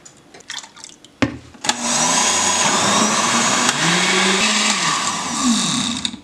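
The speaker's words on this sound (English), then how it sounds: "we're gonna blend the yolks, and we're gonna add the other liter of milk." An electric blender whips egg yolks with milk for rompope-style eggnog. A few clicks and knocks lead into a loud, continuous whirring roar that runs steadily to the end, with no talking.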